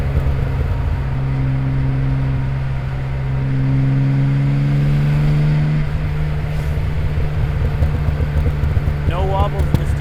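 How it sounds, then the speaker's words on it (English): A 1970 Jaguar XKE E-Type Roadster cruises in third gear at about 50 mph, its engine holding a steady, loud drone with a brief swell in pitch midway and a faint whine near the end. "Let's have a nice little drive here. This is third gear, 50 miles an hour."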